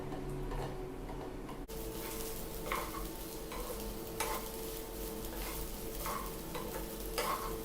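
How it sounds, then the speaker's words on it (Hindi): Rice and paneer stirred together in a hot pan for a pulao: a soft, continuous sizzle with regular scraping and tapping of a spoon against the pan, close and moderately quiet. "चावल और पनीर को अच्छे से मिक्स कर ले रहे हैं।"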